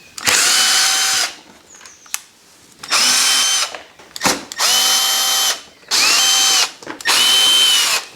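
A power drill on a KTM 1290 Super Adventure S motorcycle drives out short T30 screws in four loud bursts, each a steady whine that spins up and winds down, with brief ratcheting clicks and pauses between.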